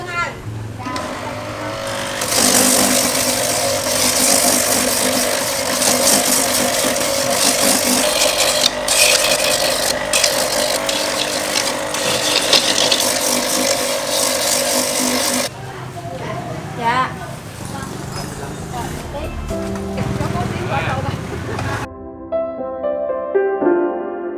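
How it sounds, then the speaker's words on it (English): A coconut grinding machine shreds the meat of old coconuts into shavings, a loud continuous mechanical whirring and rattling that drops in intensity partway through, with talk over it in a Vietnamese setting. "she grinds it for like coconut shavings"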